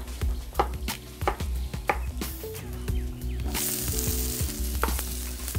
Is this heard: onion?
yes